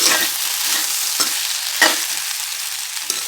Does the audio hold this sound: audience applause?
no